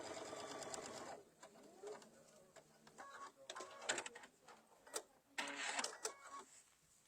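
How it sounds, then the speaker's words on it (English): Sewing machine stitching a quilt-as-you-go zippered cosmetic bag, heard in a steady fast run at the start, then short bursts of stitching with pauses and handling noise between, fairly close and loud. "I'm just going to sew right on that line"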